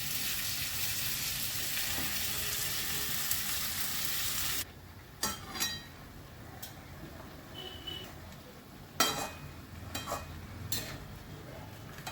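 Cabbage with green chillies frying in a pan, a steady loud sizzle for the first few seconds, then quieter with scattered stirring scrapes and short bursts of hiss.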